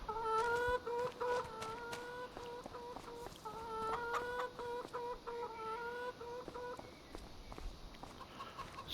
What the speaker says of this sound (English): See, that's chickens.